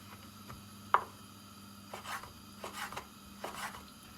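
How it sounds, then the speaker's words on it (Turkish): A handful of quiet, irregular knife chops cutting meat into small cubes on a cutting board, each a short knock, in an otherwise quiet room. "Küçük küçük doğrayacağım."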